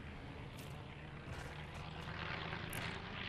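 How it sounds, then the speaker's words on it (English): An airplane engine drones steadily overhead in the Fortnite video game, a continuous broad roar at moderate level with no voices over it. "There's a plane. It came over here."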